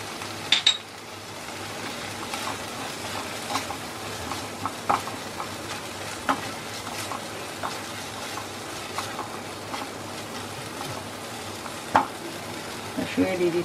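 Sweet corn is stirred into a soybean curry in a pan, giving a soft, constant sizzle broken by repeated scrapes and light clinks of the spoon against the metal.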